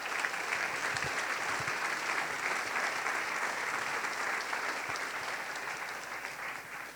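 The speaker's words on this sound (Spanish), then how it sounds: "dele otro aplauso a nuestro Rey," Sustained applause from a church congregation during a Sunday service, a dense, steady wash of many hands clapping at once that holds fairly level for the whole stretch, with no voices rising above it.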